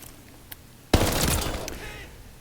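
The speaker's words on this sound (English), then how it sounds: "a whole lot of kick for a submachine gun, and has a pretty high rate of fire too" A Tommy Gun submachine gun fires in Call of Duty Vanguard, a loud close burst of rapid shots that starts abruptly and rattles on for about a second before fading, after a faint click.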